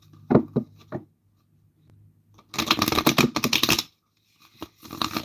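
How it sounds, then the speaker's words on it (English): Tarot love cards being shuffled by hand, a few sharp flicks followed by a longer, dense riffling burst and some softer card taps, close and clear. "So let's go ahead and pull some love cards."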